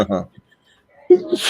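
A single sharp sneeze bursts out at close range after a short pause, with a voice talking before and after it.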